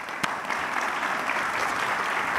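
Audience applause welcoming a speaker to the stage at an evening exhibition reception, a steady, dense wash of clapping from a crowd lasting throughout with no voices over it.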